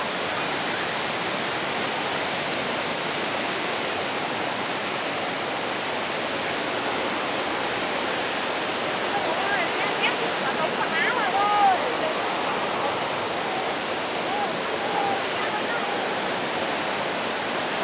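Thác Mây waterfall in Thanh Hoá rushes in a steady, loud, unbroken roar, with faint voices of visitors occasionally rising above the water.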